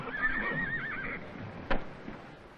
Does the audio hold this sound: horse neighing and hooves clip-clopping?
yes